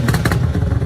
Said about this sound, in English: Take a listen to the sound Hernandez says his car makes once the engine revved.